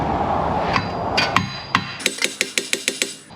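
Hammer blows on a Subaru hub bearing in an auto repair shop: a few scattered metallic strikes, then a steady run of about eight sharp, ringing hits in even rhythm, close and loud.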